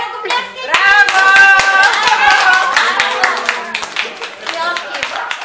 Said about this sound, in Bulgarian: Деца, ръкопляскайте.